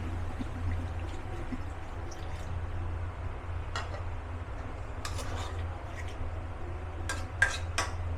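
A little water is poured into a pan of potato and ash gourd greens curry, with quiet stirring and clinking over a steady low hum, and a few sharper utensil knocks near the end.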